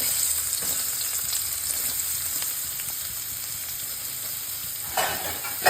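Sliced onions frying on a low flame in oil with cinnamon, cloves and cumin for an egg keema: a steady, even sizzle with a faint hiss, fairly close, ending with a brief stir or clatter and no voices.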